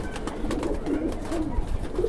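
A pair of Jeera pigeons coo repeatedly up close, soft rolling calls rising in a loose rhythm over faint background noise.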